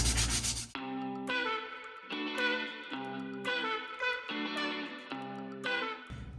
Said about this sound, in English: I've got 36 grit on the belt sander